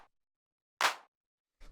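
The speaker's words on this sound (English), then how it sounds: "just like a nice kind of hard-hitting clap, like a drum machine style clap" A hard-hitting, drum-machine-style clap from a deep house track, a single sharp electronic hit sounding alone in silence, with brief fragments of other sounds at the very start and end.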